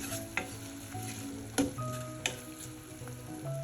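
A spoon stirs a tamarind mixture in a pan while cooking prawn thoran. There is a soft, steady sizzle with a few sharp scrapes and knocks against the pan, alone and close.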